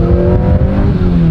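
An aging Honda car engine accelerates hard, its loud, steady rising drone of revs filling the moment up close with no one speaking.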